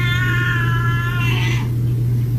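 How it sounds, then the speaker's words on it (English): A cat gives one long, drawn-out meow that rises and then cuts off, heard over a steady low hum. "That is a cat."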